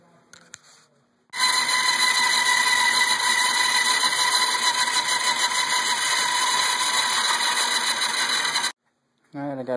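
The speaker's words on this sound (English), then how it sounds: "Time to cut it out with the bandsaw." A bandsaw cuts through a wood block for an axe handle, with a steady, loud, high-pitched whine and buzzing blade noise for about seven seconds that stops abruptly.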